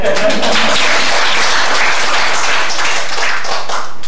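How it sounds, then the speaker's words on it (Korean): A lecture audience bursts into applause, loud and close, many hands clapping in a thick continuous roar that carries through the full four seconds with a faint voice at the start. "이런 데 박수 쳐야 됩니다"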